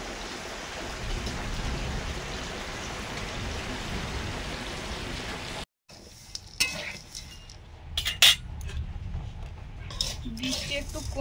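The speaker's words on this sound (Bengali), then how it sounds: "কারেন্ট তো নেই, বৃষ্টি হচ্ছে" Steady rain keeps up a dense hiss during a thunderstorm before cutting out abruptly, followed by quieter, scattered clatters and knocks.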